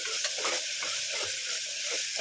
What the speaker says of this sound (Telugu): సో అల్లం వెల్లుల్లి మాడకుండా వేయించుకోండి సిమ్లో పెట్టుకొని అల్లం వెల్లుల్లి వేయగానే మంచి స్మెల్ అయితే వస్తుంది